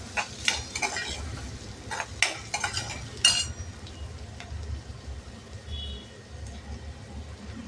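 Chopped onion and tomato sauté in a pan with a low crackling sizzle, while a spatula scrapes and clatters against the metal in a quick cluster of strokes before the stirring eases off.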